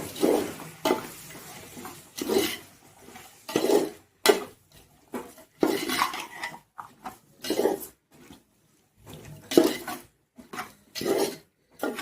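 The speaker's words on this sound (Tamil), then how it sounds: "இந்த வெஜ் புலாவுக்கு தேவையான உப்பு, தயிர், இதை அப்படியே நல்லா மிக்ஸ் பண்ணி விட்டுருங்க" Salt and yogurt being stirred into vegetable pulao in a pot, a spoon scraping and clinking against the vessel in repeated short bursts with brief pauses between strokes, close and fairly loud.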